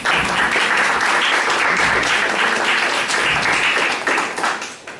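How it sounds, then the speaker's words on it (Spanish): Audience applause at a monographic presentation in Alicante, a dense, steady roar of many hands clapping that carries on throughout and begins to thin out and fade near the end. "Un aplauso para Valentín."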